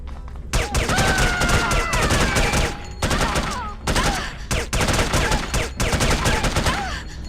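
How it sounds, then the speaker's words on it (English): Gunfire from the PC shooter The Operative: No One Lives Forever, loud sustained bursts of rapid shots in close succession with brief pauses, dense and near, over music or game noise. "I was shooting him and he wouldn't get shot."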